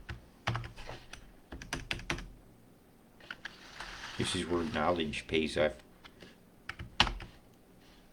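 Quick bursts of typing on a computer keyboard with a different layout, sharp key clicks in clusters, close and moderately loud, with someone talking over part of it.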